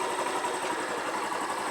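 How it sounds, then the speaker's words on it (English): A Derbi Senda Cross City 125 motorcycle engine idles, a steady close buzzing putter that holds an even rhythm throughout, with no talk. "you have to do this while the engine is turned on"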